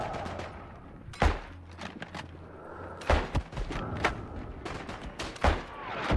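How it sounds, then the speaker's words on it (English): Artillery shells and gunfire boom in a WW1 battle in the video game Isonzo, scattered heavy thuds and cracks at irregular intervals over a constant rumble of combat. "We're in the middle of artillery bombardment."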